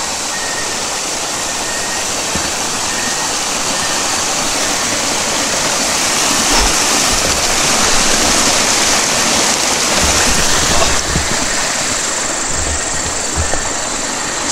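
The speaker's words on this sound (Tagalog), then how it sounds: "Ito yung ilog na dadaanan natin" River water flowing, a loud continuous rushing roar with a steady broadband wash that swells slightly partway through, heard close and alone.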